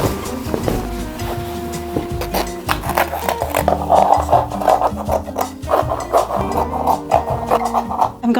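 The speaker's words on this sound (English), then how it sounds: "I'm gonna start by sewing the edge of my square of cheese" Sewing machine stitching the edge of a fabric cheese-slice square, its mechanical whirring and rhythmic needle chatter running steadily and fairly close throughout, with small pauses and bumps along the way.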